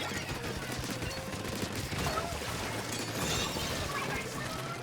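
Rapid, dense enemy ink gunfire from a Splatoon 3 Rainmaker match crackles continuously in a busy game mix, with overlapping bursts and splats holding steady throughout.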